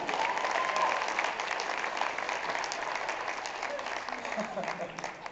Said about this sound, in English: We'll give these guys a round of applause.